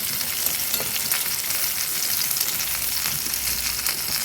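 Eggplant pieces fry in oil in a pan, giving a constant loud, close sizzle dotted with small pops and crackles, with no one talking.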